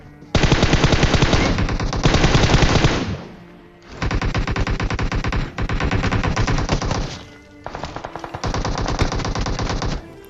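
Rapid automatic gunfire in the video game PUBG Mobile, loud close bursts in several long sprays separated by brief pauses.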